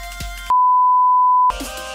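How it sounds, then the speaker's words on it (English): A Samsung Galaxy S10 powering on gives a single loud, pure electronic tone that holds for about a second, with quiet room noise before and after. "And I will turn the phone on."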